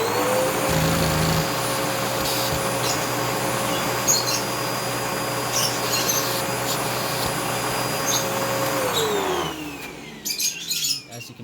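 A homemade vacuum engine runs with a steady whirring drone and a sustained tone that holds, then slides downward as the engine slows and stops, leaving scattered clatter and mechanical clicks.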